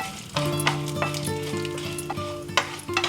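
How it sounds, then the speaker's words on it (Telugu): Urad dal, mustard seeds and fenugreek fry in hot oil for a chutney, a close crackling sizzle broken by sharp popping and spatula clinks against the pan. "అందులో మినప్పప్పు కొద్దిగా ఆవాలు మెంతులు వేసి కొంచెం దోరగా వేయించుకోవాలి"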